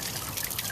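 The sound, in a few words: water trickling from garden pond fountain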